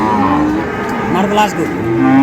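Cattle mooing loudly at a livestock market, several long low calls overlapping one another, with a crowded, noisy background and no clear talk.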